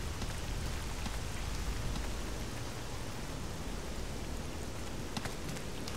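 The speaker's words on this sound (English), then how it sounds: "So right now it's raining." Rain falling in the game S.T.A.L.K.E.R. Anomaly, a steady dense hiss of drops on surfaces that runs evenly throughout with no voices.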